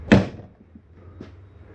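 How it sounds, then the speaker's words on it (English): The entry door of a 2016 Cherokee 274VFK travel trailer RV shuts with one sharp, close slam, followed by a faint latch click and a soft thump a second later. "close our door"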